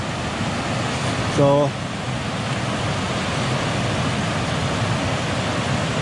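Steady, loud rushing of river water pouring over a weir at Burley-in-Wharfedale village near Leeds, a dense continuous roar up close, with one brief spoken word early on.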